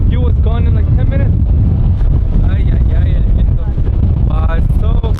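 Strong wind on the Hallasan mountain summit: loud continuous buffeting roar against the microphone, close and heavy, with people talking over it.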